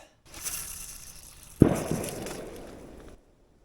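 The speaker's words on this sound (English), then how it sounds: "My fire just exploded." A winter campfire beside a fishing camp gives off steady crackling, then one sudden loud pop-burst followed by a denser flurry of crackles and hisses that fades out; nearby, no talking.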